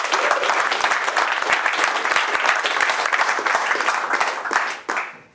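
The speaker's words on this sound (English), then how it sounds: "You can applaud yourselves." A seated audience at a coding bootcamp demo day in London claps steadily in a dense, loud burst that fills the room, then tapers off near the end.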